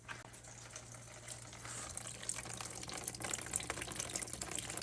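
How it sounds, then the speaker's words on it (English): Dirty coolant pours out of a Subaru radiator during a flush, a steady, hissing splash of liquid that grows slightly louder and rougher as it runs, with a low mechanical hum in the background. "the coolant's coming out pretty dirty still"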